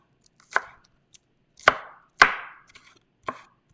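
A knife cuts ingredients into thin slices on a wooden board, giving five crisp, separate chops with short pauses between them, close and clear with no talking.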